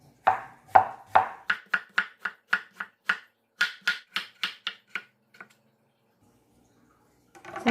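A knife slicing vegetables thinly for a salad on a board, about fifteen crisp evenly paced cuts close up, a brief pause midway, then quiet.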